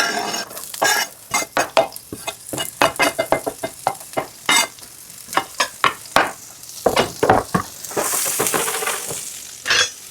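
Aromatics fry in very hot oil under busy stirring, with a rapid run of loud scrapes and clacks from a spoon against the pan over a constant sizzle that swells louder near the end.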